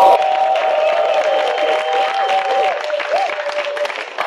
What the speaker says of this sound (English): I like the way you clap.